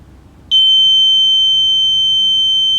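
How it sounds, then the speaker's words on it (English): An RTC-driven automatic medicine reminder's buzzer sounds abruptly as a single loud, steady high-pitched electronic tone held continuously over faint background hiss, with no voices. "Buzzer is coming."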